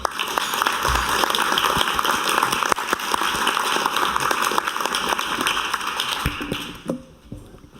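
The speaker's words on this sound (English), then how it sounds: "Give her a warm applause." Audience at a European Dialogue event breaking into warm applause, dense steady clapping from a sizeable crowd that holds for several seconds before tapering off near the end.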